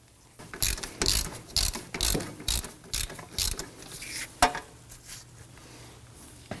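A ratchet threads a bolt into a rear wheel hub on a 2018–2024 Toyota Camry, sounding as a run of about eight quick, close clicking bursts in a steady rhythm, then a few scattered clicks.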